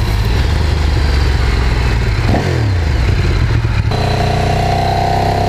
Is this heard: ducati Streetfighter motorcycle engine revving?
yes